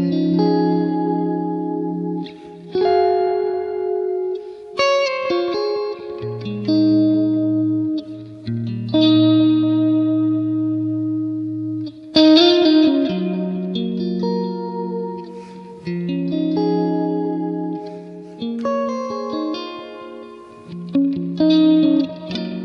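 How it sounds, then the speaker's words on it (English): An electric guitar plays a clean tone through a Strymon Volante tape delay pedal, with sustained chords and single notes ringing under echo and chorus-like shimmer, loud and close, with no voices. "just as an example, here's my clean tone."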